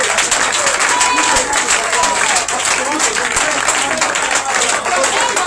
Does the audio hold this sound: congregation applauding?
yes